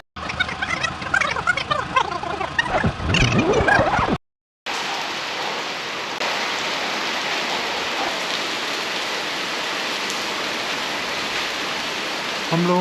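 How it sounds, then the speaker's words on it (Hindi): Heavy rain pours near Ooty in a steady, loud wash that continues unbroken after a brief cut, following a few seconds of a busier, clattering texture. "बारिश बहुत ज़्यादा हो रही है।"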